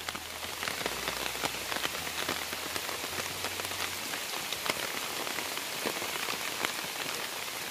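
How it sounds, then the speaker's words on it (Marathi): Heavy rain pours steadily onto a farm field, a dense, continuous hiss of drops striking the ground and surfaces, loud and unbroken throughout with no voices. "आता बघू शकता किती मोठं पाऊस इलो"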